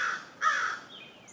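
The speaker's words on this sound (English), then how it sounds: "That's a crow down there." A crow caws twice outdoors on a mild morning, with a harsh call and then a louder second one, fairly clear and alone, followed by a faint higher bird note.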